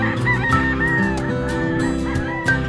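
A yellow-legged roundhead gamecock stag of the Gary Gilliam bloodline clucks and crows near the microphone on a morning farm, repeated loud calls over background fowl noise.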